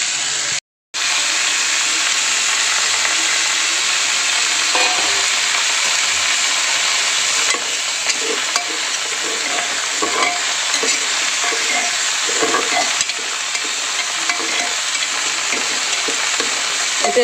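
Broken wheat (dalia) frying in a pan while being stirred, a steady loud sizzle and hiss with scraping stirs throughout, close and without talk.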